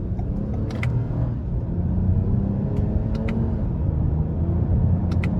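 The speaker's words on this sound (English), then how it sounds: "I'm gonna give it a little throttle here." A 2021 Toyota Camry XSE V6 in manual shift mode under light throttle, a low steady engine hum and road rumble that swells slightly, heard from inside the cabin, with a few faint clicks.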